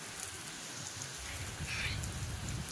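Rain falls steadily and softly, a continuous hiss of drops on surfaces that swells slightly toward the end, heard alone without any talking.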